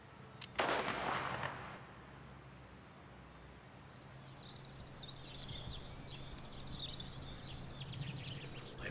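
A single loud gunshot rings out on a World War One battlefield in a drama short film, followed by a fading rumble, then steady low ambience with faint chirps of birds in the distance.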